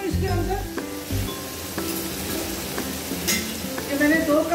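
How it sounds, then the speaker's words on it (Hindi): Steamed rice tossed and stir-fried with chicken and vegetables for fried rice, steady sizzling with repeated clinks and scrapes of a utensil against the pan, fairly loud and close, with music underneath. "डालने लगी हूँ इसके अंदर। ये मैंने दो कप चावल जो है वो मैंने"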